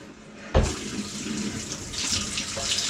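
Water gushes from a tap at home into a sink, starting suddenly and then running steadily and close by.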